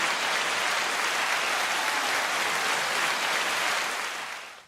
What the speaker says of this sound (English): I think that just deserves another round of applause.